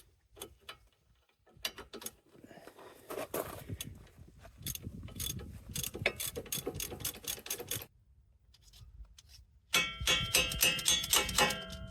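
A socket ratchet works rusted front strut bolts on a 2007-2014 Ford Edge, giving uneven bursts of close metallic clicking and clattering with short pauses, then a denser, brighter run of rapid ratchet clicks near the end.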